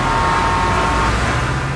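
Steady, loud road traffic noise from cars on a commute, a continuous broadband roar with a low rumble throughout and no voices.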